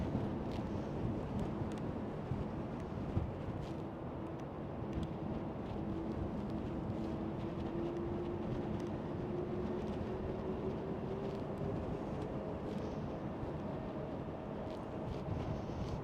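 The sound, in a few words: Delta Airlines A330 airliner at Schiphol airport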